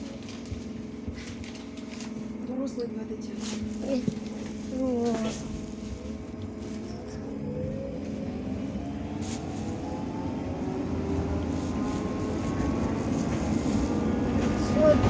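MAZ Dnipro T203 trolleybus accelerating from inside the cabin: a whining electric motor tone climbs steadily in pitch and grows louder over fifteen seconds, with occasional clunks and rattles.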